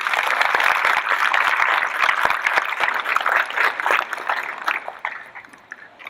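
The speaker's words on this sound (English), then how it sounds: "Let's give her a hand clap," A crowd at an outdoor remembrance walk in Texas claps warmly for a CEO being introduced, sharp individual claps at first blending into steady applause that thins and fades toward the end.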